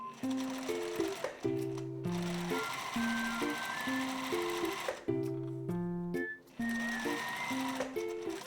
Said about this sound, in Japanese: ポケット口を5ミリで縫います。